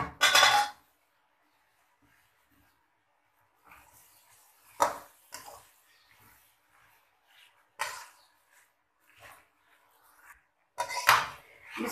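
Rice poured into a metal cooking pot, heard as a few short clattering, rattling bursts with quiet gaps between them, close by and with no talking.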